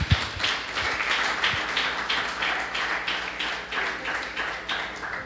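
Church congregation clapping, a steady rhythmic beat of many hands with a few sharper near claps, continuous and moderately loud for several seconds with no speech over it.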